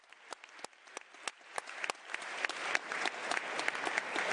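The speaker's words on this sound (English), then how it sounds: "Now, please applaud." Audience applause at the Young Activists Summit at the United Nations in Geneva: a few scattered claps at first, then thicker, steady clapping that grows louder and fuller toward the end.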